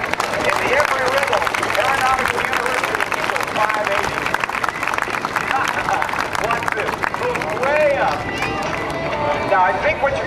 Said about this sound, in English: I hope you'll join me in a big Oceana round of applause for Matt Chapman.